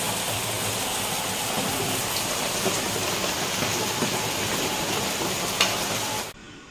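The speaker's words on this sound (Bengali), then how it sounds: "এখন ভালোই বৃষ্টি পড়ছে" Heavy rain hisses steadily outside in a continuous wash, then cuts off abruptly at the end.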